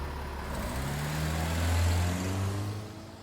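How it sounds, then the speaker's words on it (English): A car pulls away slowly at night, its low engine drone rising gently in pitch and swelling as it accelerates, then easing off as it moves away, heard alone without voices. "He drove off slowly."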